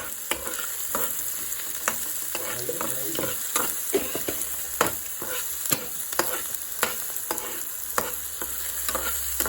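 Chopped onion with salt and sugar sizzles gently in a pan while a spoon stirs it, with scraping clicks at an irregular rhythm over a steady soft frying hiss, close by.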